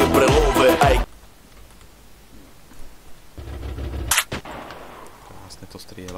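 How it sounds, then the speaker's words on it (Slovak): Muffled gunfire from the video game GTA San Andreas: a loud burst at the start, then a quieter stretch with a few faint shots and a brief sharp crack, with no talk over it. "Vlastne to strieľa úplne, že mega potichu"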